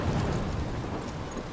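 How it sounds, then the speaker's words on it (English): A thunderstorm with steady heavy rain fills a game scene in Life Is Strange, a dense continuous roar of rainfall with a low rumble, loud and unbroken. "trapped in a storm?"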